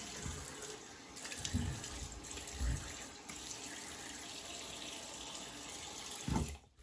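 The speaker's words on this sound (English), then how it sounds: "So let me get my face wet real quick." Tap water runs steadily into a bathroom sink as a face is splashed before a cold-lather wet shave, with a few louder splashes and a brief pause near the end; no talking.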